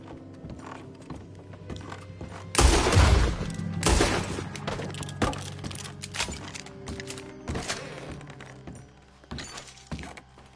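A gunfight in Red Dead Redemption 2, with loud sharp shots and bursts at irregular intervals amid clattering mechanical noises and hoof-like knocks, set against a rumbling game ambience.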